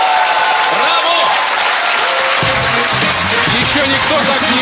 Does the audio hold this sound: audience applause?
yes